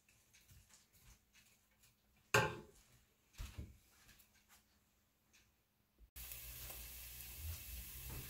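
Onions caramelizing in a pan sizzle softly with scattered stirring scrapes and clatter, then a steady, louder frying hiss takes over near the end.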